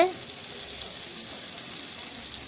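Masala powders sauté in a pan with a faint, even sizzle. It follows a brief clatter at the start and holds steady at low volume, with no voices.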